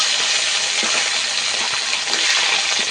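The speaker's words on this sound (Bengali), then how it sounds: "এই মাছগুলোকে উল্টে পাল্টে একটু লাল করে ভেজে নেব।" Pieces of hilsa fish fry in oil, a loud, constant close-up hiss and crackle with no break for the whole stretch.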